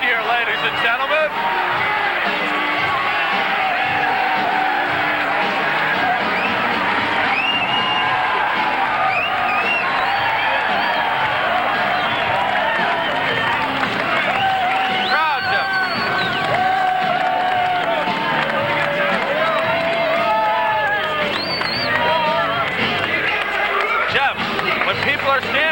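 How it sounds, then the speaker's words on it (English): A fight crowd rises and applauds at a bout between Michael Thornberry and Thaddeus Chuchro, a loud, continuous roar of clapping and cheering with a commentator talking over it throughout. "People are standing and applauding"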